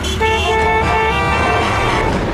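Car horns blare in a Tehran traffic jam, several overlapping sustained toots near and loud over a rumbling bed of idling vehicles, with no voices.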